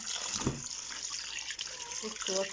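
Water running from a tap over beans being washed for moimoi, a fairly close splashing trickle with a few louder gushes and drips, a voice faintly present in the background.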